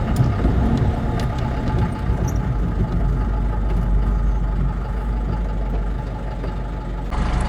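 A 1965 1¾-ton diesel truck with a four-speed column shift pulls along in third gear, its heavy low engine drone steady and loud throughout with no talk.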